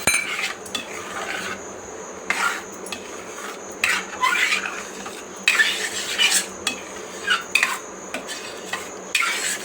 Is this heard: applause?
no